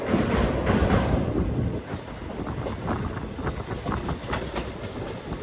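A train running on rails between Ahmedabad and Vadodara, with a steady rumbling roar and rhythmic clicking of wheels over track joints, heard from inside or very near.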